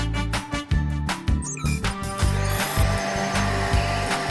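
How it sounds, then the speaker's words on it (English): A cartoon vacuum cleaner roars loudly with a pulsing, mechanical whir, with bursts and rhythmic surges throughout and no talking. "The machine starts making loud noises, showing its power."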